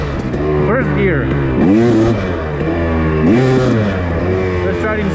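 A two-stroke dirt bike revs hard in first gear, its loud, rising engine note climbing and dropping through two sharp throttle bursts close by, with a steady exhaust drone underneath.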